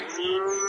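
A single cow on a farm lets out one clear, drawn-out moo, close and fairly loud, with the wind audible faintly behind it.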